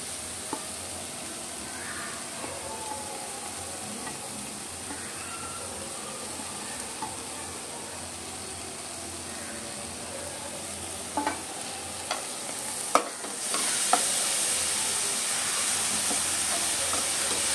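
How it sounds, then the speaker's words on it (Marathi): Dried shrimp (jawla) sizzles in a pan of spiced masala, a steady, quiet frying hiss with a few light stirring clicks and scrapes near the end, and no voices. "जरा जवळा ह्याच्यात परतायचा चांगला असा."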